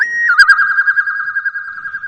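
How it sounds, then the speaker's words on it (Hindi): A koel sings a single sustained, wavering whistle-like call, clear and fairly close, with no other sounds around it. "उसके कानों में कोयल की मधुर आवाज सुनाई दी।"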